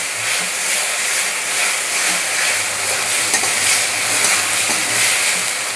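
Spice masala for mutton curry sautés in a hot pan, a constant loud sizzling hiss broken by soft stirring scrapes, close up with no talking.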